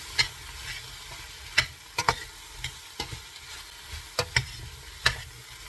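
Pork with kimchi and garlic powder being stirred in a pan over medium heat, with a soft steady sizzle broken by several sharp scraping clicks of the utensil spaced irregularly, close and moderately loud, no voices.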